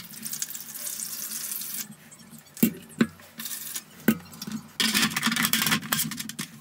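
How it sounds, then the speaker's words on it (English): Tap water runs into the plastic base of a Gryphon Zephyr ring saw for cutting stained glass, a hissing stream with intermittent splashes and knocks, starting and stopping as it fills. "all we're going to do is fill the water up into that water line"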